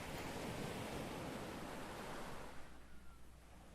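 Ocean waves in the Dagon video game wash in a steady, broad surf roar that thins and fades slightly toward the end, with no voices.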